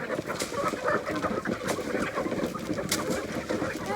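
Hens clucking in a busy farmyard, a dense steady chorus of overlapping clucks and calls, fairly close and loud throughout.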